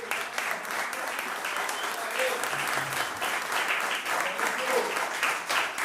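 An audience at a radio presenters' day event in Villa Ángela applauds continuously, a steady wash of clapping at moderate distance lasting the whole six seconds.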